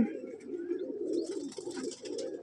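Breeding pigeons in a cage give a continuous, close, low cooing that rolls on through the whole moment, with no voices.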